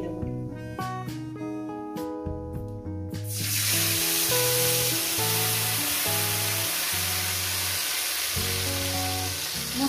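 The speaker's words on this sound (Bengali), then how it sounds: "এটাকে আমি ভালো করে সুন্দর করে কষিয়ে নেব" A ground spice paste for pabda fish curry with mustard and poppy seed hits hot oil in a pan and bursts into a loud, steady sizzle after a few seconds of music, which keeps playing underneath.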